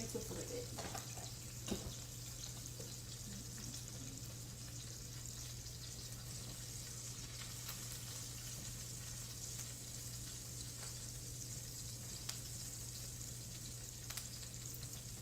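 Salmon fillet sizzles skin-side down in a hot pan, a faint, steady frying hiss that continues unbroken for the whole stretch, with a low hum underneath and an occasional soft clack of kitchen handling.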